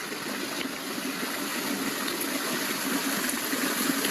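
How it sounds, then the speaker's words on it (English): Storm water running along pavement toward a roadside storm drain, a steady soft rushing and trickling flow at low level, continuous and unbroken with no voices. "hear the water maybe gathering"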